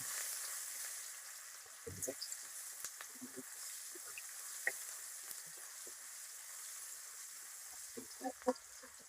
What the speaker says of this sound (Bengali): পেঁয়াজ লাল লাল করে ভাজা নেব